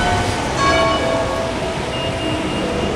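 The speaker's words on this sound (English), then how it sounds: "There's the bell again." Church bell ringing on a Sunday morning in Richmond-upon-Thames, tolling tones heard at a distance over street ambience during a walk through a shopping area.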